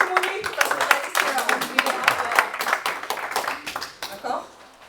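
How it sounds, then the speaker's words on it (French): Audience clapping at an hypnosis conference talk, a dense patter of hands lasting several seconds, fairly close and steady before thinning out at the end. "On applaudit bien fort"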